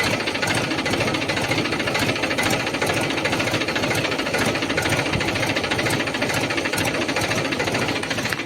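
A Mahindra B 275 tractor engine runs steadily close by, a loud, dense, rhythmic chugging rumble that continues without pause throughout.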